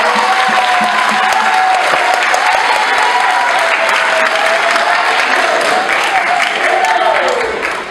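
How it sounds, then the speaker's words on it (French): A school audience applauds debaters after a debate on peace, with sustained, dense clapping from many hands at close range that holds steady for the whole stretch and eases slightly at the end. "Je crois qu'on peut les applaudir déjà."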